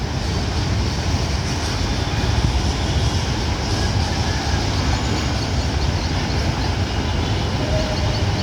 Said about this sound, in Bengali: এই যে দেখতে পাচ্ছেন একটা বিমান আসতেছে